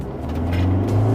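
An Isuzu D-Max X-Terrain pickup's engine pulls hard under full throttle after a toll stop, heard from inside the cabin as a loud, steady low drone that rises slightly in pitch and swells over about a second.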